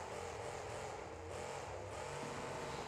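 A monster truck engine in BeamNG.drive drones steadily and loudly with no pauses, a low rumbling hum that holds fairly even and sounds underpowered.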